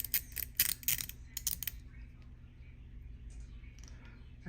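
A few quick, light plastic clicks in a short burst at the start, then quiet room tone.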